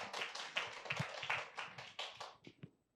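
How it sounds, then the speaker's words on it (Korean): Scattered, sparse handclaps from a small forum audience in a lecture hall, a few distinct claps in uneven rhythm, moderately faint and tapering off toward the end. "두 분께 다시 한번 큰 박수 부탁드리겠습니다"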